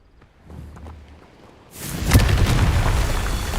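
A Confringo spell detonates in Hogwarts Legacy, a sudden loud booming blast after a quiet lead-in, followed by sustained rumbling debris and crackle.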